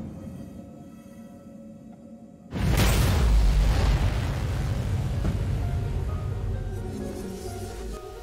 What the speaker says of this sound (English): We were able to do some limited testing with the torps, and found that small ships are instantly destroyed.